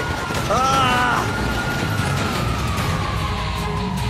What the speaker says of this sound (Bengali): ঠিক আছে, আমি একটা পুলিশের গাড়ি পেয়েছি।